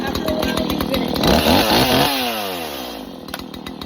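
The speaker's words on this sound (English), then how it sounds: "you just pull to start" A Stihl MS170 chainsaw is pull-started with cord rattles, then catches and revs up loudly into a rising whine before dropping back toward idle.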